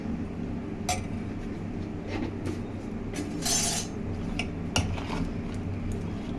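Raw rice omelette batter seasoned with salt is stirred in a bowl, giving soft, irregular scrapes and a few sharp clinks of utensil against the bowl over a steady low background.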